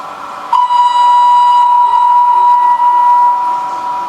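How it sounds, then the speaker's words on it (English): An LGB Bernina model train's sound card gives one loud, sustained steam-style whistle lasting about three seconds before it fades, with no voices. "Really nice whistle. It sounds like it's in the Swiss Alps."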